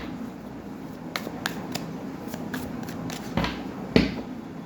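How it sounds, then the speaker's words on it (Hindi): Tarot cards handled during a reading: close, light flicks and slaps of cards being drawn and laid down, a few sharp snaps spaced over a faint room background. "4 और एक ये 5 कार्ड्स मैंने ले लिए हैं।"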